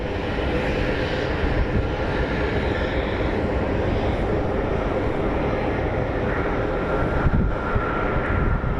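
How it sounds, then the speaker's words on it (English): A Southwest Airlines 737 airliner on final approach makes a sustained, loud jet roar, with wind buffeting the microphone throughout. "It's a Southwest Airlines 737"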